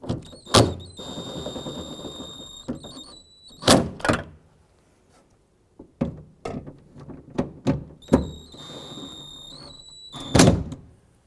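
Door handle bolts being snugged down on a 2004-2012 Chevy Colorado front door, heard as a series of sharp clunks and knocks against the door panel, with metallic ratchet-like clicks and irregular quiet gaps between them.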